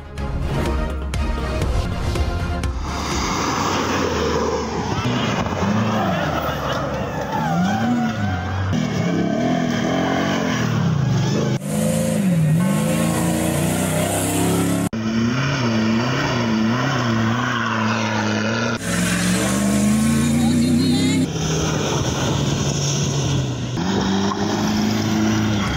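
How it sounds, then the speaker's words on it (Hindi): Jeeps race across desert sand during the 8th Thal Jeep Rally, engines roaring and revving loudly and continuously as vehicles pass, mixed with dramatic background music throughout. "थल के सहराओं में गाड़ियों की दौड़।"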